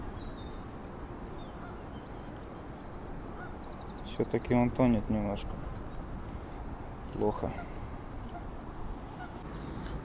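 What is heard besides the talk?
geese honking on the water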